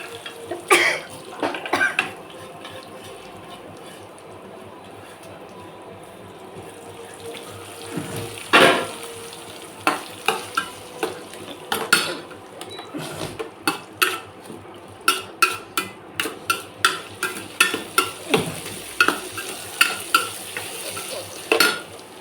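Carrots, beans and onion tossed in a pan for semiya, with a spoon or ladle clattering against the metal in quick, repeated scrapes, getting busier in the second half, close and fairly loud with a faint hiss beneath.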